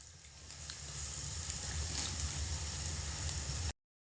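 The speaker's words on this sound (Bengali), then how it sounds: "ঝাঁঝরি হাতা দিয়ে হালকা একটু উল্টে পাল্টে দেব, যাতে করে অপর পিঠটা খুব ভালো করে ভাজা ভাজা হয়" Biuli dal fritters (bora) fry in oil with a steady, even sizzle that holds at a moderate level and then cuts off abruptly.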